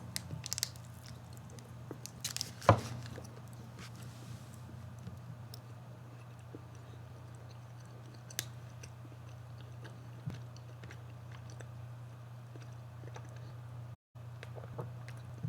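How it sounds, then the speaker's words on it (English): Soft, wet chewing of a Snickers bar close to the microphone, faint and steady under a low background hum, with one louder bite or crunch early on and no talking. "I apologize if anyone can hear me chewing. I'm eating a Snickers bar."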